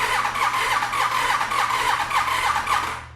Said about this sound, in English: it'll crank over, but it won't even try to start